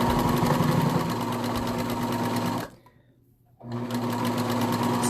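A serger overlocker with a built-in knife stitches a cotton jersey neckband in a fast, steady mechanical chatter, stops briefly for about a second, then runs on again at full speed.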